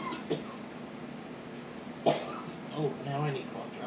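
A person coughs a couple of times, with one short cough early and a sharper one midway, close to the microphone, followed by some speech.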